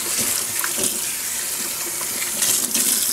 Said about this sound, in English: I'm going to go ahead and use some cold water, stop that dyeing process